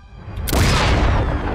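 Cartoon explosion from a Disney animated series: a sudden loud broadband blast that swells in and keeps rumbling and roaring for over a second, with no talk over it.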